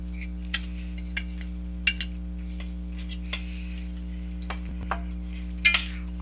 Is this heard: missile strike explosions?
no